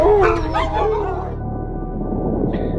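Sled dogs in a team kennel in Longyearbyen, Svalbard bark and yip in a quick burst at the start, close and loud, then fade into a lower background murmur of the pack.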